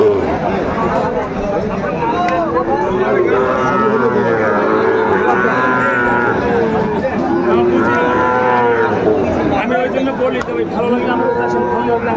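A Sahiwal bull moos repeatedly at a busy cattle market, loud drawn-out calls rising over a constant babble of crowd chatter and bargaining voices.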